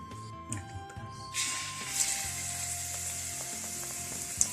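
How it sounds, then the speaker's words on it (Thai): Oil sizzles steadily as battered king oyster mushrooms deep-fry close by, a constant hiss that swells after a moment, with light clicks and a low background hum. "ค่อยๆทอดไปเรื่อยๆ"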